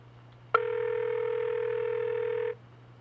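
A caller rings in to a radio station's live call-in line: one steady telephone tone starts abruptly, holds evenly for about two seconds, then cuts off, with no voices around it.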